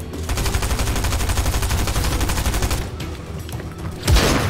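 Rapid automatic gunfire in Fortnite, a dense, fast rhythmic burst of shots that runs for several seconds, stutters briefly, then ends with a heavier thump, loud and close with no talking.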